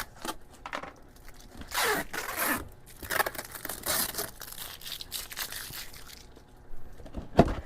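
A snack package being wrestled open, with steady crinkling and crushing of plastic wrap, bursts of tearing and scraping, loud and close, ending in a sharp rip near the end, no talking.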